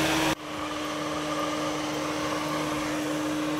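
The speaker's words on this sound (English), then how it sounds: "This is how the vacuum is doing its work daily." Samsung PowerBot VR20M7070WS/ME robot vacuum cleaner running: a steady, close mechanical whir with a constant motor hum, starting just after a brief louder burst and continuing evenly without speech.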